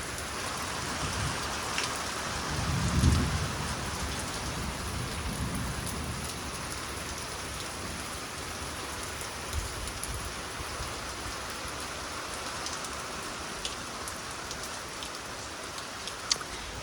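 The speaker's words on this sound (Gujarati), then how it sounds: "વીજ ગઈ પવન ફૂલ સાથે વરસાદ ધોધમાર." A heavy downpour drums steadily on surfaces in a strong wind, with a low roll of thunder rumbling early on and the rain continuing alone at an even volume.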